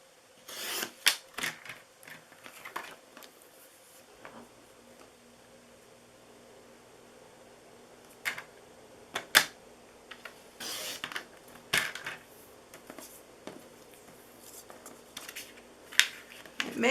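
Cardstock for a fall greeting card is trimmed with a paper trimmer in short, close rasping strokes that come in scattered bursts with quiet gaps between them.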